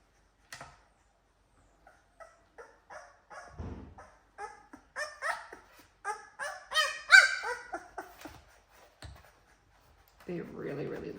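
A two-week-old black female Cane Corso puppy whines in a string of short, high, wavering cries that grow louder and closer together, then ease off, with a soft low thump partway through.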